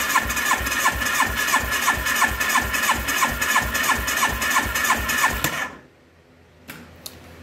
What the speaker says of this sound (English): And cylinder number four, warmed up, throttle wide open.